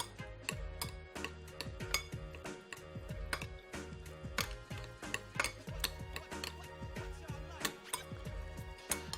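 A spoon stirs walnuts, onions, chives and radishes together in a bowl, producing quiet, steady clicks and scrapes in an irregular rhythm, close and soft, with no talking.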